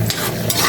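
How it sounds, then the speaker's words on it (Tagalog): Garlic sautéing in hot oil in a pan, a loud close crackling sizzle with a couple of quick stirring scrapes in a brief burst. "igisa ko na po itong bawang. Mainit na po yung mantika."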